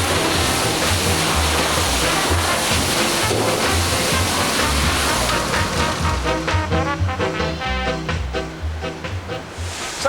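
Rushing water at a big indoor water park, a loud continuous roar like a waterfall or heavy surf that fills the whole space, steady throughout and slightly breaking up toward the end.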